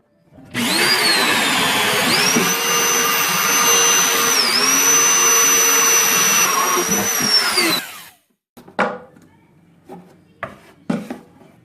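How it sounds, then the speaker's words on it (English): A 2 1/8 inch hole saw bit drills through wood during a cottage room addition, giving a loud, steady grinding whine for about seven seconds, with brief dips in pitch. A few short scraping and brushing sounds follow. "Now it's a 2 1/8 inch bit, so you got to come 1 1/16 this way and 1 1/16 that way."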